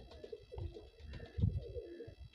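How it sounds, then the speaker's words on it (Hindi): A pigeon coos in soft, low repeated phrases, close and clear, with no talking. "बहुत ही नजाब कबूतर है जी"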